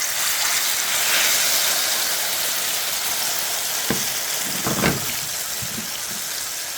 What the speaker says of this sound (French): à feu moyennement fort, on va laisser tout ça gentiment griller